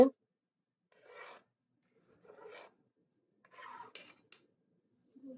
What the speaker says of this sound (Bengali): এই তো আমরা খিচুড়ি গুড় দিয়ে দিয়েছি, আমরা এখন এটাকে নাড়াচাড়া দিব।